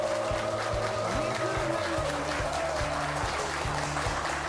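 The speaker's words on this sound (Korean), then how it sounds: "여러분 뜨거운 박수로 부탁드립니다." A studio audience at a regional MBC broadcast applauds warmly to welcome a guest, a continuous wash of clapping under a loud, rhythmic music track.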